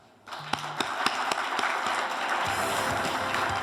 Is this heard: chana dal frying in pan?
no